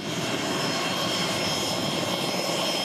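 A Pilatus PC-24 aeromedical jet's engines give a steady, loud, even roar with a high whine on top, holding constant throughout with no voices.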